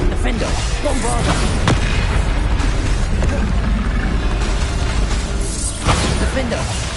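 Spell explosions and blasts from combat in the Hogwarts Legacy video game, dense, loud and continuous with repeated booming bursts and crashing impacts, mixed under a voice calling out spell names.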